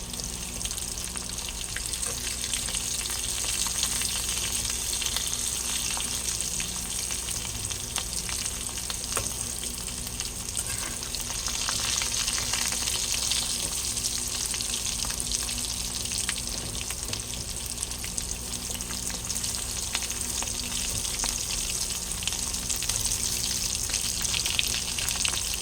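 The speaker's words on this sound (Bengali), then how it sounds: "ভালো করে ভাজতে হবে, একেবারে ডুবো তেলে তো।" Pieces of taro deep-fry in a pan of hot oil, giving a steady, even sizzle that carries on alone for the whole stretch with no talk.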